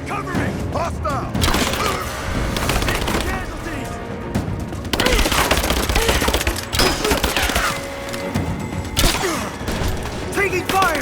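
Sustained video game gunfire in Rise of the Tomb Raider, dense bursts of automatic and single shots with cracks and thuds rolling continuously, loud and close, with shouted voices mixed in throughout.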